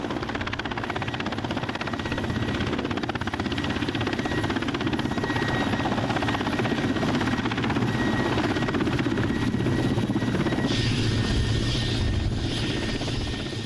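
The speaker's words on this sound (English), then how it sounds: "The helicopter touches down on the muddy Lyakovsky Island earth." Helicopter touching down on muddy ground on Lyakhovsky Island, a steady close rotor and engine roar that stays loud and continuous throughout.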